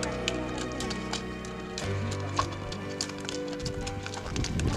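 Donkeys clip-clop along a mountain trail in the Picos de Europa, their hooves giving a steady run of light knocks under a layered background of other sounds.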